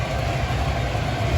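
An MTH Proto 3 model train engine, freshly fitted with new traction tires and regreased gears, runs steadily along its track with a continuous close whirring motor hum and rail rumble, heard alone.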